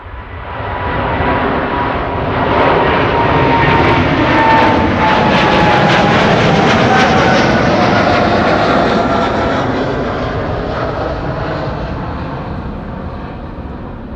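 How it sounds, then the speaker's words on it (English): KLM aircraft PH-BKA, in 100-years livery, takes off from Amsterdam Schiphol bound for LAX, a loud, rushing engine roar that builds, peaks in the middle and slowly fades, with no one speaking. "Here's the PHBKA, the KLM 100 years, going to LAX"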